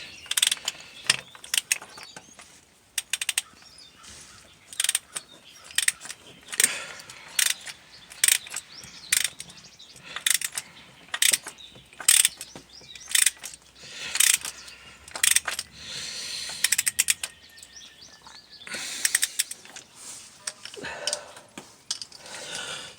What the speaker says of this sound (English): we're gonna take a 27mm socket and you're gonna put it in there.